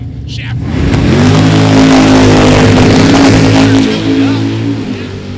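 A naturally aspirated big-block 1968 Chevy Nova roars loud and close at a drag race, its engine revving up to a sustained howl that holds for several seconds before easing slightly.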